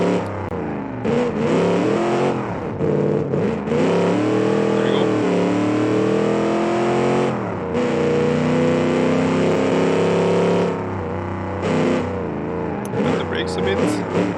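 Australian muscle car racing in the BeamNG driving game, its engine revving and surging through acceleration and corners, loud and continuous beneath steady commentary from a person talking over it.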